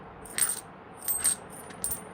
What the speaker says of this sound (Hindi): इसी खनक की वो बात कर रहा है कि मेरे बटुए में वो खनक नहीं है सोने की